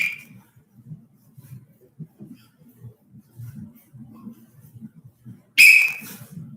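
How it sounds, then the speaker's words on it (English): A referee-style whistle gives a sharp, loud blast near the end of a martial arts drill for beginners, following a few seconds of low background noise; a faint earlier whistle opens the clip. "I blow the second whistle, you're gonna stop and switch."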